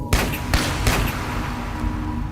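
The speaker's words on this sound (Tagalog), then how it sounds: "3 sunod-sunod na putok." Three gunshots fired in quick succession into the air, a sound effect in a horror narration, each a sharp broad burst over a dense rumbling background, fairly loud.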